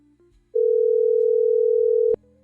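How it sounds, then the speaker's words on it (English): A single steady electronic tone on a call-in phone line, lasting about a second and a half and ending abruptly with a click, over faint background noise. "If you guys hear that phone ring, that means that you should be hearing."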